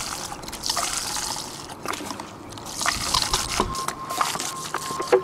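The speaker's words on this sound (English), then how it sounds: "we got the new bottle open, and we're just gonna start pouring it in" Everclear grain alcohol being poured from a gallon bottle into a truck's gas tank outdoors in cold weather, a steady close trickle and gurgle of liquid with small splashes, running on for several seconds.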